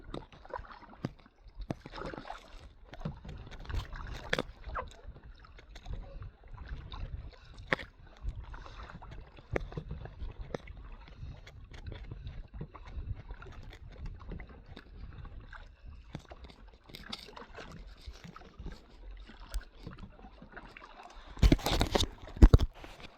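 A kayak paddles across Louis Lake with soft, irregular paddle strokes and water splashes, faint wind in the background and a louder splash near the end.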